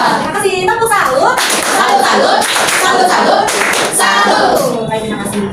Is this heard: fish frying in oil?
no